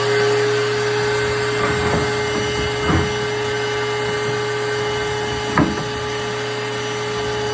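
Central Machinery bench top blast cabinet running at 90 PSI gives a steady, loud hissing roar of air and abrasive with a constant hum, plus a few brief knocks and bumps, with no talking.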